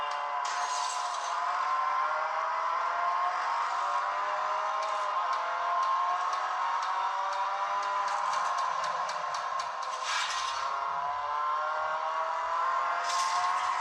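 Engine roar from the Real Racing 3 mobile racing game, played on a Samsung Galaxy J3, runs as a steady synthetic drone with shifting pitch and short clicking bursts, heard alone with no talk.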